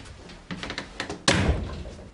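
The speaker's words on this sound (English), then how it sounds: "Shut the door." A door shut indoors: a few soft knocks and rattles of handling, then one firm heavy thunk of the door closing, its boom ringing briefly in the room.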